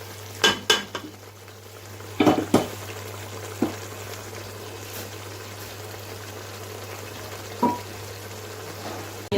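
Yogurt frying with mutton in a kadai, a low steady sizzle beneath a few sharp clinks and scrapes of a metal spoon against the wok, heard close with no voices.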